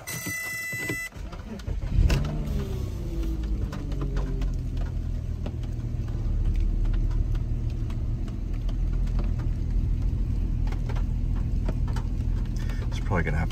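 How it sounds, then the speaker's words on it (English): A Porsche Cayenne 955 with the 3.2 engine cranks and fires up, then settles into a steady, rumbling idle with a few clicks and rattles, while someone talks over it. "so let's start the car now."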